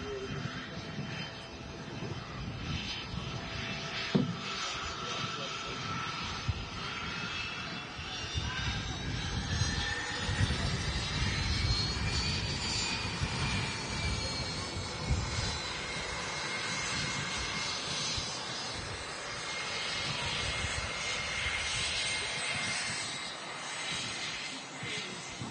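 A large aircraft's jet engines roar steadily at Manchester Airport, a loud, sustained broadband rumble that swells slightly midway and holds without a break.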